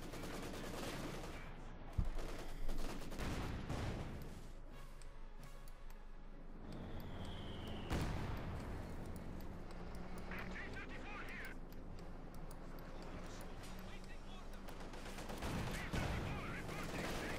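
Combat in Company of Heroes 2 with Panzer IV and Soviet rifle units, bursts of gunfire and heavy cannon shots, fairly faint and spread across the scene under steady battle noise, with a commentator talking over it.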